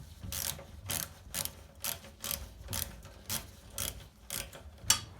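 A 9mm socket ratchet works on the rear brake of a Velosolex 3800 moped, giving about ten evenly spaced close-up clicking ratchet strokes with no talking.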